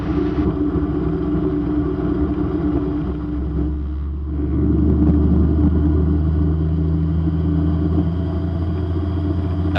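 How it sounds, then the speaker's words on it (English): A Raptor prototype aircraft engine with its propeller at flat pitch runs up to high RPM, a steady, close, rumbling drone that swells louder partway through and holds there, with no voices. "So I'm just going to give it a little bit of run up here and just up to 2 high RPM, and just to see how it sounds"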